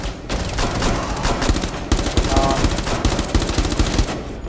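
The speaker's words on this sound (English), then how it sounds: "I just hear bullets." Dense automatic gunfire from Rainbow Six Siege rattles in rapid bursts, loud and nearly continuous, with a few sharper shots standing out among the volleys.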